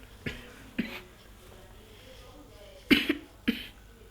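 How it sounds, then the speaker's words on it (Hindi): Several short, quiet coughs: two spaced apart, then a tight cluster of three near the end, with faint background hiss between them. "कोरोना नहीं है, बस खांसी है"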